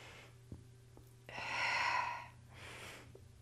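During a Pilates rotation exercise, a person breathes out in two long, soft, airy exhales, the first fuller and the second fainter, over a quiet background.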